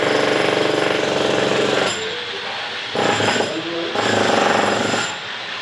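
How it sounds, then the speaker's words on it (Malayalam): Road-work drilling just outside a house rattles loud and continuous, a harsh jackhammer-like pounding that briefly eases and returns in bursts. "അതാണ് ഡ്രിൽ ചെയ്യുന്ന സൗണ്ടൊക്കെ കേൾക്കുന്നത്."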